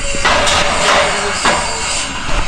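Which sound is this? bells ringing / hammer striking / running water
hammer striking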